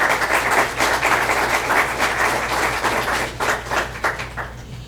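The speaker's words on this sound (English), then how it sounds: "How about a round of applause for the Color Guard?" Steady, dense applause from an audience at a village meeting honoring the Color Guard, sustained and fairly loud over a low hum before easing off at the end.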